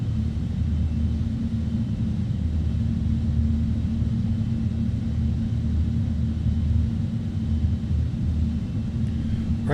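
Engines of a PMDG 777-300ER idling in Microsoft Flight Simulator, heard as a steady, loud low rumble and broad roar that holds evenly throughout with no voices.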